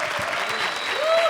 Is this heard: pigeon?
no